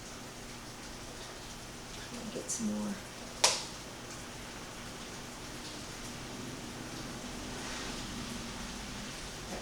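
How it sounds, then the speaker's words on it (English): Heavy rain falls steadily as a broad, even hiss, with a sharp snap-like transient partway through and a brief voice speaking early. "It is raining like crazy."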